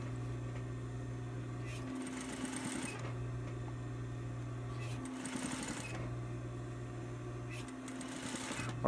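An industrial sewing machine top stitches a five panel cap, running in steady bursts of a few seconds with short pauses between them, close and continuous under a low mechanical hum.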